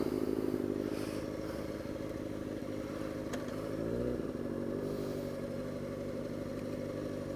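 A motorcycle splitting lanes on the way to work drones steadily up close, engine held at an even pitch with a brief rise partway through, wind and road noise underneath.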